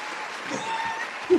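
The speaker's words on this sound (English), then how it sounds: "Warm round of applause." Canned applause sound effect played in a studio segment: a soft, even wash of clapping that stays quiet throughout, with a brief louder bump right at the end.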